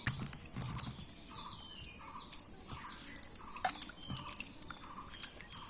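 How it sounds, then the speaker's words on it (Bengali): Tomatoes washed by hand in clean water, with a steady run of drips, splashes and light knocks against a container, close by and with no talking. "এবার চলুন টমেটোগুলো পরিষ্কার জল দিয়ে ধুয়ে নিই"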